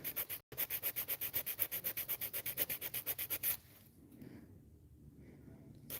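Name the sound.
filing acrylic nails with a nail file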